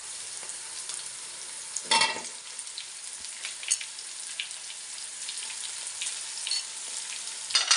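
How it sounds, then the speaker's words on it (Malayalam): Chopped onion is added to green chillies and ginger frying in oil, making a bright, fairly quiet hiss with a few louder crackling bursts and occasional stirring scrapes. "സവാള കട്ട് ചെയ്ത് ചേർത്ത് കൊടുത്തിട്ട് നന്നായി ഒന്ന് ഇളക്കി കൊടുക്കാം"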